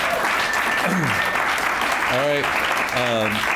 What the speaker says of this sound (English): Good, another round of applause.